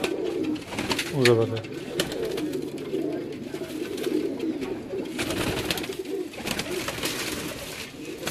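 A Kamgar racing pigeon from a loft in Multan coos close by, a few throaty calls standing out early, while someone speaks over steady background noise.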